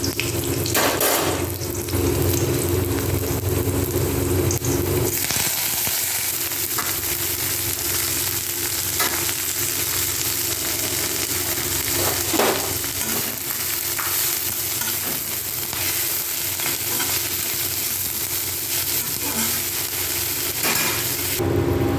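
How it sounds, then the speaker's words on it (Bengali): Chili, panch phoron and garlic fry in a pan with a loud, continuous sizzle that runs throughout, with stirring and scraping layered over the hiss. "আর দিয়ে দিলাম একটা লঙ্কা, পাঁচফোড়ন আর রসুনকে হালকা করে ভেজে নেব"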